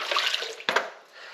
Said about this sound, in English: this is just the shower water and the water from washing up